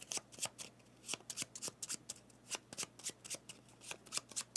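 Cards of the board game Obsession are riffle-shuffled repeatedly at close range, giving a rapid series of crisp papery riffles and bridging snaps over several seconds, with no talking.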